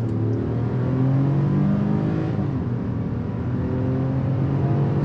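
A 2022 Infiniti QX60 in sport mode accelerating flat out from 0 to 60, a steady loud engine drone with rising revs heard from inside the cabin and no talking.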